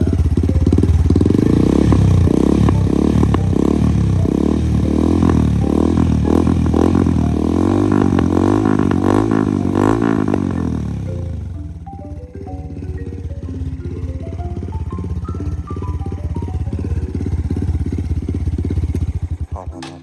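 A new motorcycle's engine running loud and close, a rough pulsing roar that revs and rattles for about ten seconds, then drops to a lower, uneven idle that climbs again toward the end.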